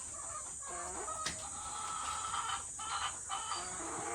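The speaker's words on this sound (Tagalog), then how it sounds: "Papakilala namin sa inyo yung rooster." A brown and black rooster clucks in short close calls at a cage-free chicken coop, over a steady high hiss of background noise, with no talking.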